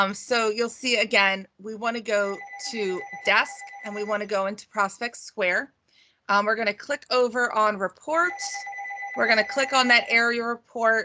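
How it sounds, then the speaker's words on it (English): A telephone rings repeatedly in the background, its steady electronic tones sitting beneath nearly continuous talking during a real estate website software walkthrough. "I apologize that my phone is ringing."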